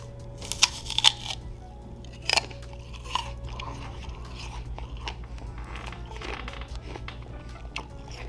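Someone bites into an apple and chews it, with a couple of sharp crunchy bites early and quieter chewing over a steady background hum.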